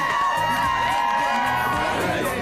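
Crowd at a red carpet event cheering and shouting, a dense continuous roar of voices with whoops, loud and close, with tonal music or other sound layered through it.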